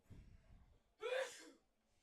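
A single sneeze during a high school baseball broadcast, a short sharp burst after a stretch of faint breathy background, fairly quiet and heard alone.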